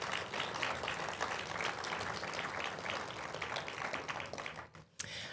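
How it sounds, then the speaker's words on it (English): An award ceremony crowd gives a steady round of applause, dense clapping that thins and dies away near the end, followed by a sharp tap. "Can we give her a round of applause for that?"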